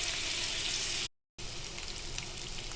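Steady, dense sizzle of mutton frying in hot oil with browned onions, with a brief full dropout of sound partway through before the crackling resumes.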